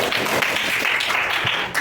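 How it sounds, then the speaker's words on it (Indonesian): A classroom of fourth-grade pupils claps together for a classmate, a dense, even patter of hands lasting under two seconds at moderate loudness. "Tepuk tangan untuk teman kita"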